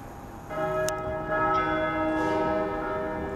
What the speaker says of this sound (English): hear the church bells go off there.